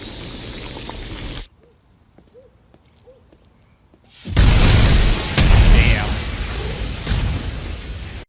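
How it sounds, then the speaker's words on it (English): An explosion scene from a Better Call Saul episode: after a quiet stretch with faint sounds, a loud burst erupts and is followed by a roaring, crackling aftermath that slowly fades over several seconds. "Dope ass explosion scene, man."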